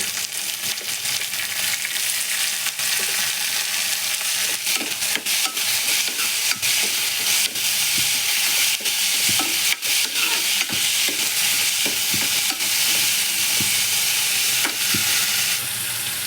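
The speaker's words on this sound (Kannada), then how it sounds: "ಟೊಮೆಟೊ ಹಾಕ್ಕೊತಾ ಇದ್ದೀನಿ." Tomatoes fry in a pan, giving a continuous sizzle throughout, with frequent scraping clicks as they are stirred. No one speaks.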